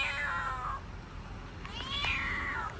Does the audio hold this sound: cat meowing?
yes